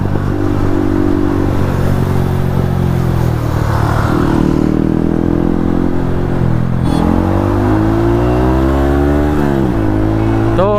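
Yamaha MT-15 motorcycle fitted with an Akrapovic exhaust, ridden hard in a street race; loud, close engine drone with rising and falling revs and gear shifts throughout, no talking.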